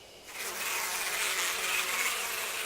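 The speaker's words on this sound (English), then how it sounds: "The bees are gathering on it." A dense swarm of bees buzzes steadily around thick dripping liquid in the Death Mark video game, a continuous close drone that swells slightly after the first moment and holds without a break.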